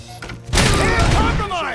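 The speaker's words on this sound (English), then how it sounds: "Throwing grenade!" Grenade explosion in the video game Robocop: Rogue City: a loud, broad blast bursts in about half a second in, then rolls on with rumbling, crackling debris to the end, over faint game voices.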